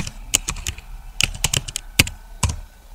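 Quick, irregular clicks of keys on a computer keyboard, alone in a quiet room, coming in short bursts with brief pauses and a few louder taps.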